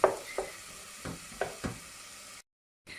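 Onion softens in a pan for homemade chicken croquettes, a faint sizzle beneath several short, distinct stirring scrapes spaced about every half second, ending with a brief silence.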